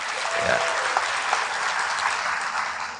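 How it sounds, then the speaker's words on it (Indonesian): Audience applause at an Indonesian BKKBN stunting-prevention kick-off event in Lampung, a steady dense wash of many hands clapping that holds through the whole stretch with no voices. "Tepuk tangan untuk Mbak Kade ini ya."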